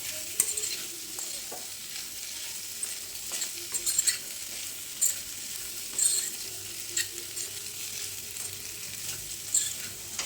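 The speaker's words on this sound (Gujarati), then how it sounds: "હવે આપણે આને મિક્સ કરી દઈશું. સરસ રીતે બટેટાને મિક્સ કરી લઈએ." Potatoes coated in spices are stirred in a hot pan for a dry fasting-style potato bhaji, with steady sizzling and frying under repeated soft scraping strokes of the spoon, close and moderately quiet.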